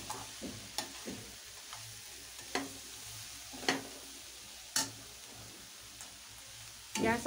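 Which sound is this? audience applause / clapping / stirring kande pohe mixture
stirring kande pohe mixture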